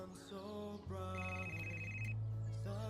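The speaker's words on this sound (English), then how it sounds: "Answer the phone! Answer the phone!" A telephone rings in a steady electronic ringtone pattern, accompanied by a tonal musical backing with sustained notes, moderately loud and without speech.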